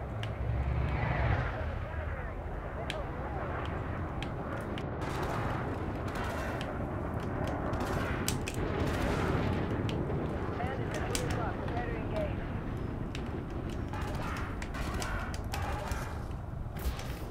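Spaceship turret fire in the Elite Dangerous video game during a boss fight with shields offline: dense, continuous rattling bursts and booms under a busy game mix, with someone talking over it.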